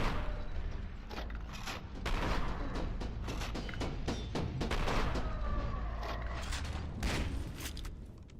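Shotgun blasts and other gunfire in the shooter game F.E.A.R. 2: Project Origin, loud repeated booming shots with mechanical clatter, fired in quick uneven bursts over a constant dense combat din, no talking.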